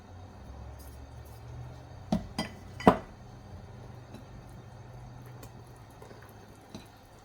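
Pot of pork adobo cooking in coconut milk with string beans, its lid placed on with two or three sharp metallic clinks against a quiet background of kitchen hum.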